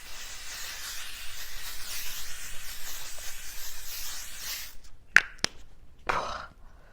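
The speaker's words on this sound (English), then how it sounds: "So this is the L'Oreal Infallible 3-second setting mist." L'Oreal Infallible 3-second setting mist sprays in a long, close, continuous hiss lasting several seconds, followed by a few short, sharp bursts near the end.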